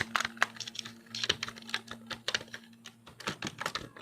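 Rapid, uneven clatter of computer keyboard keys as a C++ program is typed, close and fairly loud, with bursts of quick keystrokes and brief pauses, alone without any talk.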